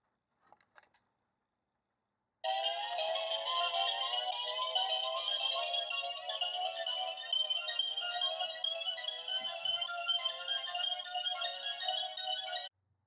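After a couple of faint clicks, a continuous electronic toy tone starts abruptly, a shrill buzzing warble that runs unbroken for about ten seconds, from a Sailor Moon Rainbow Moon Chalice toy.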